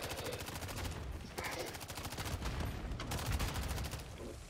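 Rapid automatic gunfire from a Call of Duty Zombies match rattles almost continuously in dense bursts, loud and close, with players talking underneath.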